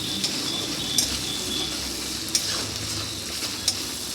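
Tomatoes seasoned with turmeric and salt fry in a pan with a steady sizzle, and a spoon stirring them gives a few light scrapes and clinks.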